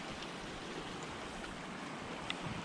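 Sea waves washing against rocks at a coastal fishing spot, a steady broadband wash of surf with a faint slosh near the end, continuous and fairly quiet, with no voices.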